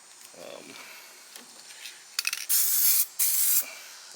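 An aerosol can of spray paint hisses in two steady bursts onto a Lexan RC car body, close and loud, after some light handling clicks and rattles.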